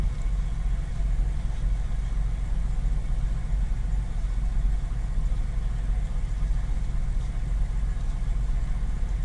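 A V6 fourth-generation Camaro idles with its power steering being turned lock to lock while the car sits raised in the air, a steady low engine hum with no distinct pump whine standing out.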